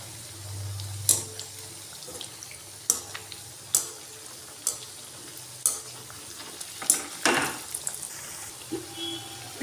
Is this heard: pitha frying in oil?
yes